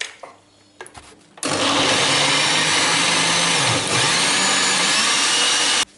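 Kitchen blender pulverizing a flan cake mixture, switched on after a few faint handling knocks and running loud and steady for several seconds with a brief dip in pitch before cutting off.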